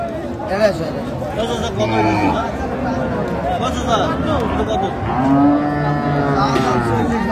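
Sahiwal cows and calves low repeatedly at a crowded cattle market, one drawn-out moo rising clearly near the end, amid constant hubbub and people talking close by.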